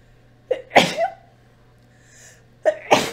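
Two sharp sneezes break into a quiet room during a chess broadcast. Each one has a short intake before it, and the pair comes about two seconds apart, loud and close, with no voices over them.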